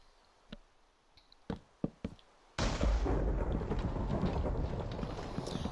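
Thunder cracks during a rainstorm in a SpongeBob video game: a few sharp distant knocks, then a sudden loud rumbling roar with heavy rain that holds steady to the end.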